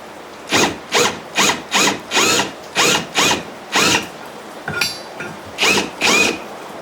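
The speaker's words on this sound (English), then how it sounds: "I'll use a countersink one size larger than the 5/8 hole" A drill fitted with a countersink bit, one size larger than a 5/8 hole, cleans the edges of holes in steel, whirring in about a dozen short, evenly spaced bursts with brief pauses between, close and clear.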